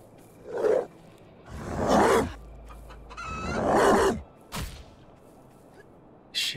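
Chickens cluck in a barn in the video game HumanitZ, mixed with heavy rustling and scraping bursts. Short clucking calls come through between the louder noises, and a brief squawk sounds at the end.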